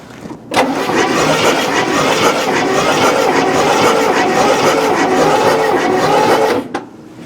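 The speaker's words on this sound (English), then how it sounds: "this hissing noise could be indicative of bent valve or burnt valve or something like that" A Cadillac 472 V8 in a hearse cranks steadily on the starter during a compression test, a loud, even, rapid whirring for about six seconds with a hissing noise mixed in that suggests a bent or burnt valve, then stops abruptly.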